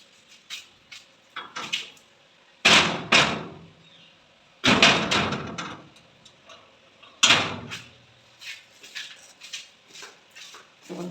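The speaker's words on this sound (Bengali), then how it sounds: "চলো এখন ছাতে গেটটা দিয়ে দেবো" A rooftop gate door being shut gives three loud bursts of clanking and rattling, each trailing off, with smaller knocks and taps scattered between them.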